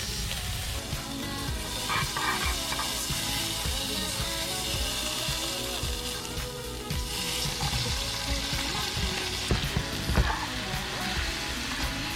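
Steaks sizzle and fry continuously at close range, a dense crackling hiss that holds steady throughout with occasional louder pops and scrapes.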